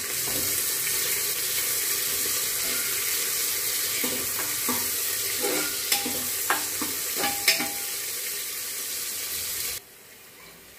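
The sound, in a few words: onion being sautéed in a pan for Nilanga rice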